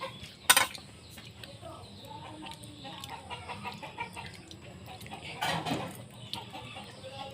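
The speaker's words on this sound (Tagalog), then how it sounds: "Ang manok." A chicken clucks around a rural yard near a corn patch, with a sharp close burst early on and scattered softer clucks and rustling that follow at moderate volume.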